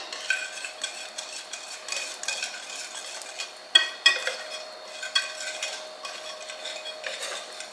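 Madeleine batter is stirred in a bowl, with soft rhythmic scraping and occasional clinks of a utensil against the side.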